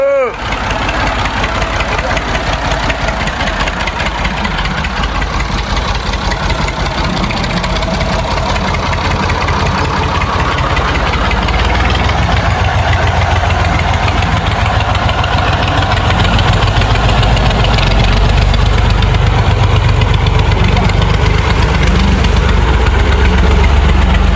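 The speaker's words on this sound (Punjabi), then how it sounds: "ਤੇਲ ਪੈ ਗਿਆ ਟਰੈਕਟਰ ਜਾ ਰਿਹਾ" A tractor engine idles and runs with a steady, heavy low rumble that grows slightly louder toward the end, continuous throughout with no clear speech over it.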